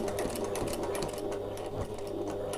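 A sewing machine stitches a zip seam on a bag with a steady, fast, continuous mechanical whirr and needle chatter throughout, close up and with no talking.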